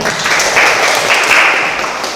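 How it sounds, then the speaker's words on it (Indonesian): Classroom of students clapping for a classmate after a presentation, a short dense burst of applause, loud and close, with no talking over it. "tepuk tangan untuk teman kalian"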